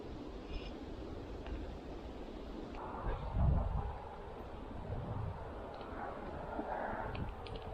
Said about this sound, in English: hopefully to shelter us from some of this wind because it is crazy